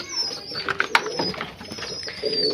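Fancy pigeons in a loft give a few soft, close coos over a light background rustle.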